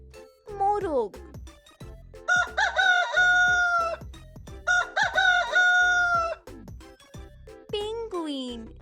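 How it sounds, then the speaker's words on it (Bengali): A rooster crows loudly twice in full cock-a-doodle-doo phrases, with a shorter call at the end, over a rhythmic music track. "মোরগ,"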